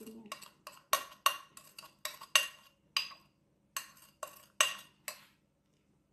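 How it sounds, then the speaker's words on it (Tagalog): A utensil clinks and scrapes against a pan while pepper steak is being mixed: a quick series of sharp, close metallic taps in uneven bursts, then a few spaced-out strikes before it stops. "Haluin natin yan."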